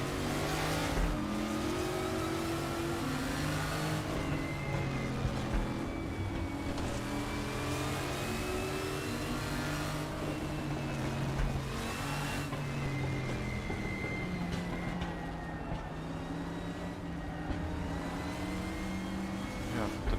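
A race car engine in the RaceRoom racing game screams steadily at high revs, its pitch climbing and dropping through the gears in long sweeps, loud and close throughout.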